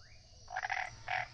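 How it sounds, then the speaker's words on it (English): Faint raspy frog croaks, two short bursts in quick succession over a quiet night-time background. "came the urgent croaking of a frog"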